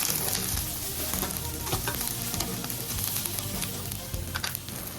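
Pork Bicol Express seasoned with ground black pepper crackles and sizzles in oily fat as it is stirred in a pan, a dense continuous frying hiss with small scraping clicks, close and steady throughout.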